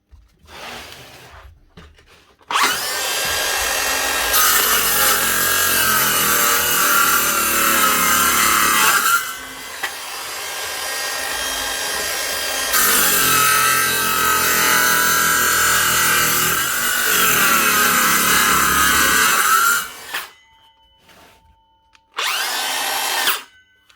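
Power saw in a workshop making a test cut, running in two long loud bursts of whining motor and cutting noise separated by a short pause, then a brief third burst at the end.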